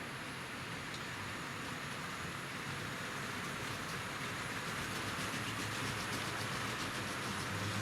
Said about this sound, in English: And let's get this Flying Scotsman underway. So slowly, hopefully move away. Just moving away from the platform now.